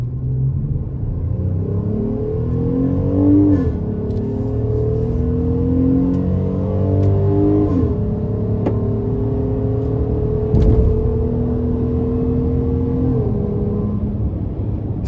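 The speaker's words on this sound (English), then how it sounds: "So I really like the sound you get from the exhaust" Inside a 2025 Ram 1500 Big Horn with a V6 eTorque engine, steady engine and exhaust drone rises in pitch as the truck accelerates through several gear shifts, heard continuously and fairly loud with road rumble beneath and no talking.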